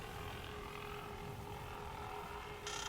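Armored drone with shielded propellers in ARC Raiders, giving a continuous whirring hum that holds steady and fairly loud, with a brighter, higher burst entering just before the end.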